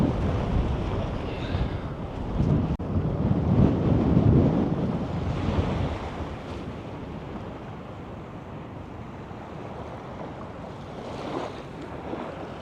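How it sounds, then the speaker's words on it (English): Strong wind buffeting the microphone in gusts on the Scottish coast, with a roaring, rumbling surge mixed with distant surf, easing to a steadier blow. "but it's just too windy"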